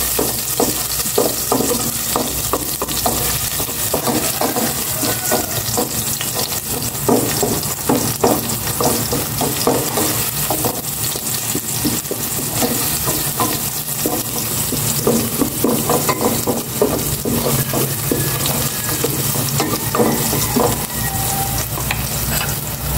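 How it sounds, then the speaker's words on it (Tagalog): Garlic sautés in hot cooking oil, a continuous bright sizzle broken by repeated scraping stirs of a spatula, close and loud throughout with no talking. "Igisa ko na itong bawang."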